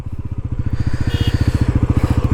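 A Bajaj Pulsar NS400Z motorcycle engine runs with a fast, steady, even thumping beat, close and loud, as the bike gets ready to ride off.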